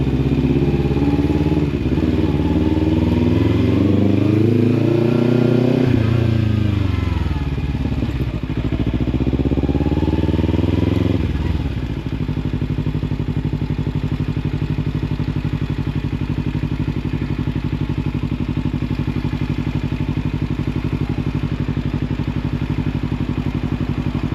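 A motorcycle ridden by a learner rider around town at night gives a loud, close, continuous engine drone, rising and falling through revs and gear changes before settling into a steady cruising hum.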